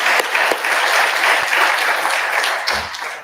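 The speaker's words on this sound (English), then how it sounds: "they probably deserve a round of applause on their own." An audience at an undergraduate research symposium applauds faculty members, dense steady clapping close and loud for about three seconds before trailing off.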